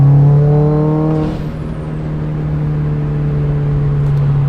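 A Subaru WRX engine turns over and catches, its starter-like whine giving way to a loud steady idle hum with a strong low tone close by.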